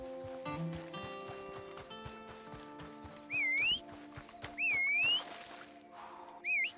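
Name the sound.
horse in the video game Red Dead Redemption 2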